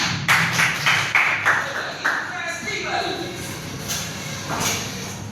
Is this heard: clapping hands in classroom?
yes